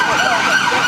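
A wailing emergency siren, likely a police car, sounds loud and close on a busy street, its tone sweeping continuously with traffic noise underneath.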